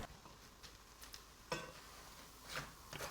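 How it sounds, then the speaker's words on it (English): Bread frying in olive oil in a hot cast iron skillet, giving a faint, steady sizzle with a few soft scrapes and clinks on top, no talking. "We put our bread to fry."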